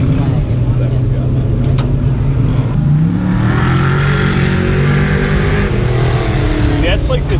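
Crate late model race cars circle a dirt track at Woodhull Raceway on Saturday night, with steady engine roar rising and falling as they pass, while spectators talk nearby.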